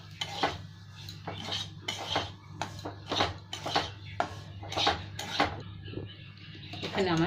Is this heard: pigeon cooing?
no